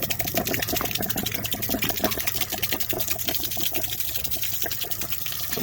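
Water drains out of an open valve on a camper being winterized, a steady splashing gush with rapid gurgling pulses, fairly faint and uninterrupted.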